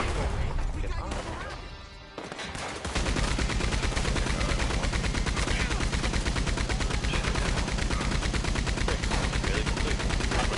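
Sustained rapid gunfire from a mounted gun in the Red Dead Online video game, a loud continuous stream of shots after a brief lull near the start, with voices underneath.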